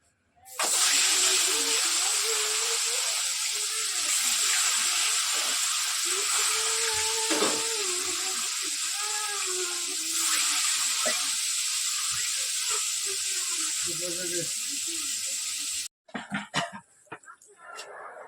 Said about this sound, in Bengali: মাছে হলুদ নুন মাখিয়ে নিয়েছি, এই যে, ঠিক আছে? চলো, তেল গরম হয়ে গেছে, দিয়ে দিই।